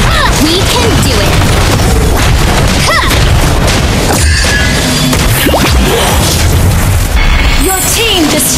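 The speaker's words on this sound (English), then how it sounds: "Your team destroyed a turret." A turret being destroyed in the Mobile Legends mobile game, with repeated booming impacts, whooshes and crashes packed into busy, loud game audio that runs steadily throughout.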